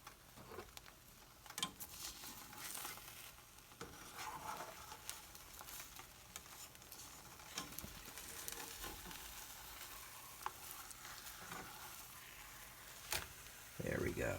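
A cheese omelet sizzles in a pan just after being flipped, a faint, continuous frying hiss with soft crackles and occasional clicks from the pan.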